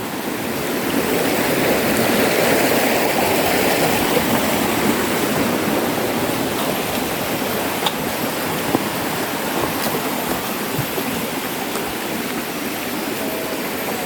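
A river rushes steadily throughout, a dense, loud, continuous roar of flowing water with no voices and only tiny faint clicks over it.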